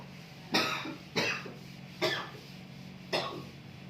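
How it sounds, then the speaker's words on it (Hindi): Four separate coughs, spaced about a second apart, each a sharp burst that trails off; close and fairly clear, with no talking. "हर खांसी कोरोना नहीं होता है।"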